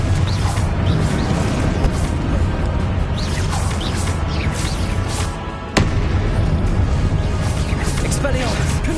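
Repeated Confringo fire-spell explosions crackle and boom through a Hogwarts Legacy duel, a constant loud barrage of blasts and impacts layered under a shouting voice calling out spells.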